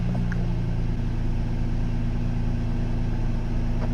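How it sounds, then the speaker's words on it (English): A car engine idles steadily in a parked vehicle while a Jackery portable power station recharges from the 12-volt outlet, a constant low rumble close by with no talking. "Just make sure your engine's running when you're doing the recharge"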